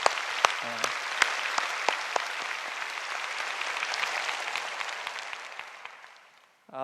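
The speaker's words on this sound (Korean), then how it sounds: "우리 하나님께 감사의 박수를 드렸으면 좋겠습니다." A worship congregation at a healing service claps in thanks to God, a broad, even applause with a few sharper individual claps standing out, held steady before dropping away to near silence at the end.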